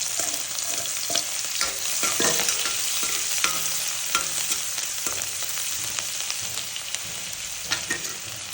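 Chopped onions sizzle in hot oil with mustard seeds, cumin and asafoetida while a spoon stirs and scrapes the pan in steady irregular strokes, close and continuous, no voices.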